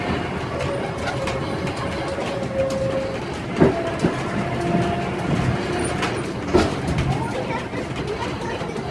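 A rattling train ride with a constant low rumble, a couple of sharp clanks and a whining tone, and murmured voices in the background.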